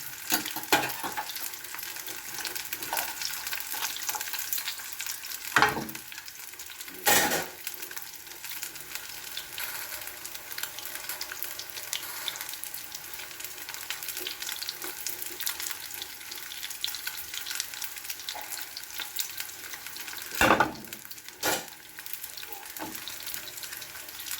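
Dory fish fillets fry in hot oil with a constant crackling sizzle, joined by a few sharp clatters and scrapes as pieces are turned or moved.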